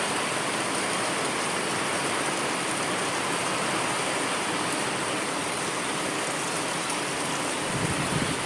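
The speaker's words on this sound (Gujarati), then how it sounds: "પુનઃ આગમન થઈ ગયું છે વરસાદનું નવસારીમાં" Rain falling on a tin roof in Navsari, a dense, even drumming hiss that stays steady throughout with no voices.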